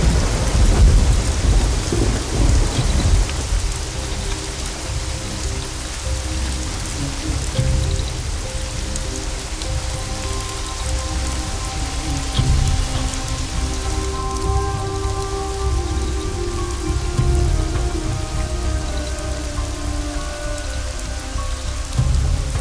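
Heavy rain pours down steadily in a dense, loud hiss while thunder rumbles low beneath it, with soft sustained musical tones rising in the latter half.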